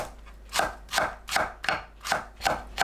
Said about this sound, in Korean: 파를 썰어줍니다.